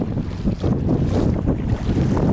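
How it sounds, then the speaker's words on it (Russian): Strong wind of 15 to 20 metres per second gusts on an Arctic sea kayak trip along the Kandalaksha coast, a loud, close roar buffeting the microphone with churning surges and no speech. "сейчас явно минимум 15, а то и 20 с плюсом дует"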